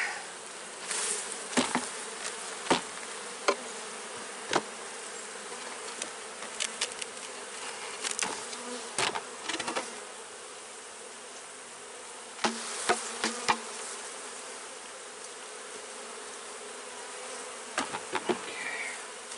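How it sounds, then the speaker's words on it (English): Honey bees buzz steadily around an open, healthy hive during a honey-box check before winter, a dense droning hum with sharper close wingbeats darting past now and then. "There's a lot of bees down there."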